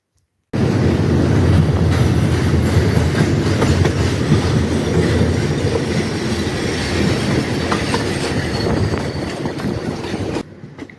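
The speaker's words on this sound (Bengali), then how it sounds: "চট্টগ্রাম থেকে ঢাকা অভিমুখী আরেকটি কন্টেনারবাহী মালবাহী ট্রেনের সাথে" A container freight train bound from Chittagong to Dhaka rolls past a railway station, its heavy rumble and wheel clatter loud, close and unbroken for about ten seconds before cutting off.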